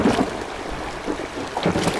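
A small boat moves across floodwater in a children's cartoon, with a soft wash of water and wind sloshing around it, moderately close and continuous for a couple of seconds.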